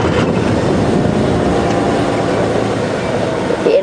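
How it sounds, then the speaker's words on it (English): A safari game-drive vehicle idles on a reserve, its engine giving a steady low rumble that holds evenly and continuously throughout without any break. "Let the engine run for just a few moments. You can get used to the sound."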